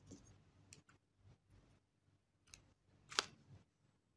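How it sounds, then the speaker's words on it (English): Scissors snip through beading thread on a brick-stitch candy cane earring, a single sharp close cut standing out among quieter small handling clicks and taps. "I will cut my thread."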